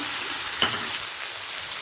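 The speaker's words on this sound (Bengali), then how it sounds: "পেঁয়াজটা হালকা লাল করে ভাজা হয়ে গেছে এই সময় দিয়ে দেব একটা বড় সাইজের টমেটোকে কুচিয়ে রেখেছি সেটাই দিয়ে দিলাম" Chopped large tomato goes into a pan of onions fried light red for an egg curry, under a steady close sizzle of hot oil with one brief burst as it lands.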